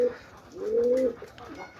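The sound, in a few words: pigeons cooing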